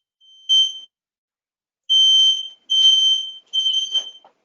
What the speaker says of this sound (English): Someone's fire alarm going off?